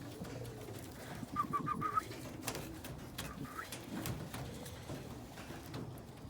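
A pied blue bar Indian Fantail pigeon cock coos softly, a brief low burbling phrase in the middle of the clip, amid handling rustles and faint background noise.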